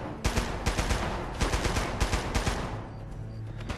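Video game gunfire in Uncharted: Golden Abyss, a rapid burst of repeated sharp shots at a steady rhythm, loud and close, with no talking.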